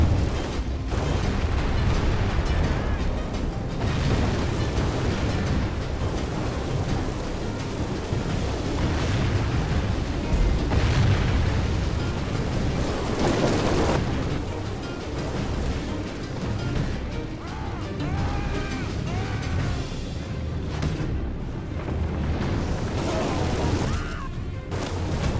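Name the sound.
trebuchets firing in video game Medieval II Total War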